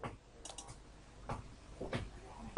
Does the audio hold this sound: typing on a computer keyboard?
yes